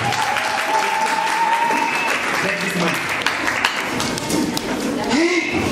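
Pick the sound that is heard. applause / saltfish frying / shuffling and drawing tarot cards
applause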